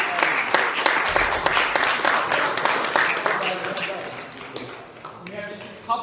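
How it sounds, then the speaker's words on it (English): Audience applause after a school poetry recitation competition, a dense wash of many hands clapping steadily for several seconds before gradually thinning out, with some voices and chatter underneath. "A round of applause for these awesome performers."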